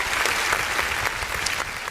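Church congregation applauding during a worship service, a full, brisk wash of many hands clapping at once, loud and continuous for a couple of seconds.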